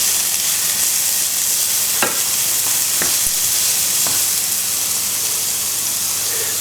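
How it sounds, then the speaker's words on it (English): Red peppers sizzling in a hot pan for a Thai dish, a steady hiss with a few sharp clacks of a spoon or spatula while they are stirred, no talking. "I like to put those red peppers in. Just mix that all around."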